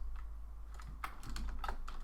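Typing on a computer keyboard while writing code: a quick, irregular run of close, crisp key clicks with no voice, over a low steady hum.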